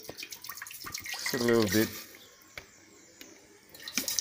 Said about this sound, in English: we're gonna pour some of the water